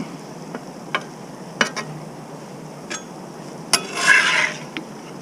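Burgers on a griddle are scooped up with a metal spatula from a professional grill set: scattered sharp scrapes and clanks against the hot plate, with a short, bright sizzle burst midway and no voices.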